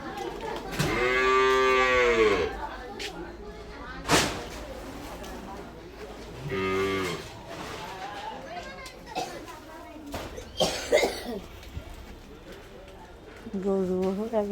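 Cattle that were burned in a barn fire moo loudly and close by in several drawn-out calls spread across the clip, with people's voices heard between them.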